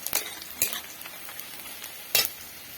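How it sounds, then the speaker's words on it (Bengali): Spiny gourd (kakrol) frying in a pan is stirred, giving a faint steady sizzle broken by a few sharp scrapes and clinks of a utensil against the pan, with no voices. "এটিকে ভালোভাবে নেড়ে নিচ্ছি"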